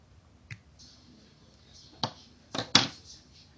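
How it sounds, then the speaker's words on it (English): Scissors snip off a yarn tail from a crocheted diamond granny square motif, giving a few sharp, close clicks, one isolated and then a quick cluster near the end, quiet and with no talk. "and I can cut this tail off."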